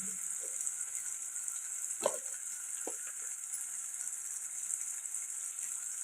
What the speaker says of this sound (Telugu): టమాటా కూడా ఫ్రై అయిపోయిందండి ఇప్పుడు కారం ధనియాల పొడి యాడ్ చేసుకున్నాం